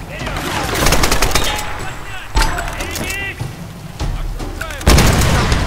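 A grenade blast and rounds of gunfire in the 2013 Tomb Raider video game, loud and close, with sharp bursts and heavy booms stacked over continuous battle noise.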